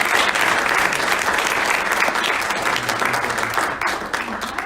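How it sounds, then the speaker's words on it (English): A steady, full round of audience applause welcomes a speaker to the stage, dense clapping from a sizable crowd that stays loud and even throughout. "Please, let's give her a applause."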